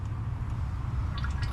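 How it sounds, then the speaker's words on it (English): Cleaning liquid flushed through a car's cooling lines and radiator, a steady low gurgling rush with dripping and squishy wet sounds close by, no voices. "So we're just gonna flush this through."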